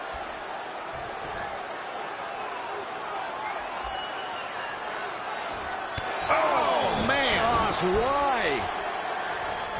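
Loud arena crowd in the WWE 2K20 wrestling game, a steady roaring wash that surges louder near the end with shrill whistles and cheers rising on top, while a commentator talks briefly.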